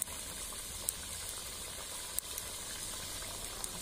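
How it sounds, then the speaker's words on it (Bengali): Mourala fish curry bubbling in a pot, village-style chorchori with small river fish, a soft continuous simmering hiss with occasional faint pops, quiet and unbroken by talk. "ঝোলটা ফুটে উঠেছে, আমি এবার এতে মাছগুলো দিয়ে দিলাম। এবার মাছগুলোকেও 2 মিনিটের মতো ফুটিয়ে নেব।"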